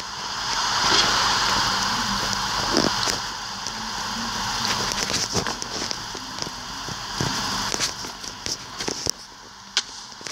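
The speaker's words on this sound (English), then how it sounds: "oh, now it's raining." Steady hiss of rain falling in Minecraft Pocket Edition fills the whole stretch, a dense even wash with scattered faint clicks and no speech over it.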